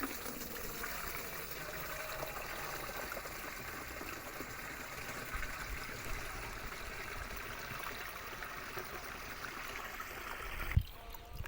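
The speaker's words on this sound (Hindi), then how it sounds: "आधी टंकी पहले पानी भर लेना है।" Water running steadily into a sprayer tank for a potato crop, a continuous gushing fill sound at moderate level, ending with a brief clunk near the close.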